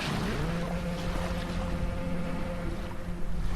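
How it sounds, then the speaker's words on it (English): A boat sails away in the video game The Lightkeeper, a steady engine hum with a faint tonal drone over wind and water wash, continuous and fairly loud. "Well, the boat is leaving."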